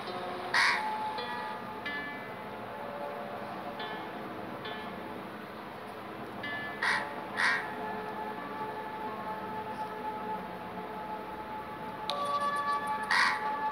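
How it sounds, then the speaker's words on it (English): Two crows caw in the video game Monument Valley, a few sharp, fairly faint calls in short bursts over a quiet, steady game ambience. "the crows are here. There are two crows."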